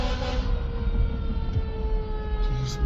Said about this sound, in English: it's like fire trucks and ambulances